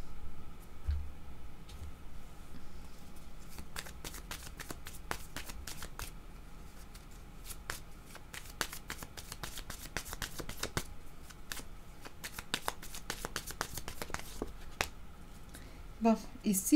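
Tarot cards being shuffled during a reading, soft repeated papery riffles and flicks in irregular bursts, close and quiet throughout.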